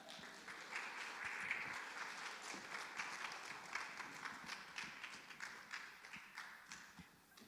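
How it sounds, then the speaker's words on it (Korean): Conference audience applauding a speaker at a Salvation Army gathering: dense, continuous clapping from a crowd, even and sustained, fairly distant and soft, tapering slightly toward the end. "박수하겠습니다"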